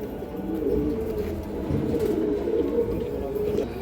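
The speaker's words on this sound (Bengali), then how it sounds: "এটা মাদি কবুতরটা" Steady, murmuring coos come from a female and male kanthi gola pigeon pair on a pigeon farm, overlapping into a dense low warble heard close and unbroken by talk.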